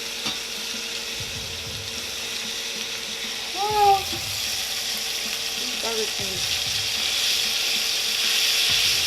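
Hamburger patties frying in a pan, a steady broad sizzle and crackle of grease running throughout, with a couple of brief louder clatters partway through and no speech.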